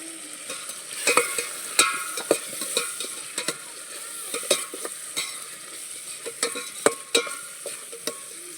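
A spoon works through a tomato and turmeric base for fish curry in a pan, with gentle sizzling under repeated scraping strokes and irregular clinks against the metal. Each stir sounds close and fairly quiet.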